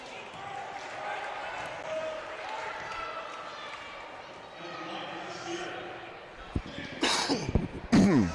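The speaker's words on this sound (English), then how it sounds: "little cough there" Someone commentating a basketball game speaks steadily over low crowd murmur, then a couple of sharp, close coughs break in near the end.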